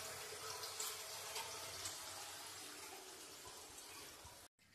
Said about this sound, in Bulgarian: Една чешма.